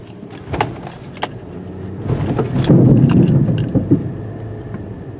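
Loose bricks clatter and knock in the bed of a 2020 Chevy Silverado 2500HD 6.6L pickup over its rumbling drive on rough ground, with sharp irregular rattles.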